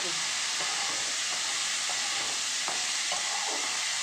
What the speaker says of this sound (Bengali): এটাকে ভালো করে নাড়িয়ে চালিয়ে একটু ভাজা ভাজা করে নেব